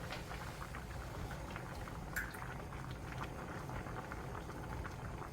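A pot of Korean pollock stew (dongtae-jjigae) bubbling steadily on the stove, a continuous soft simmering burble with faint pops, heard alone at moderate closeness.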